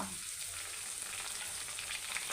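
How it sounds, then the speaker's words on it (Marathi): Chopped onion hitting hot oil in a pan while cooking a vegetable curry, giving a steady, close sizzle and crackle of frying that runs unbroken with no voices. "कांद्याला आधी लाल होईपर्यंत चांगला तळू द्यायचा आहे"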